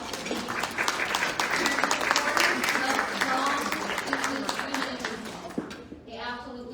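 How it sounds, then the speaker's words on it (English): A business event audience applauds in a sustained, dense wash of clapping that carries through most of the stretch and thins near the end, with voices mixed into the crowd noise. "let's give them all a round of applause"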